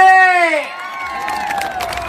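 An audience at the Boudh Mahotsav stage show in Odisha claps and cheers for Naveen ji. A loud voice trails off first, then the crowd's applause and cheering follow as a steady wash.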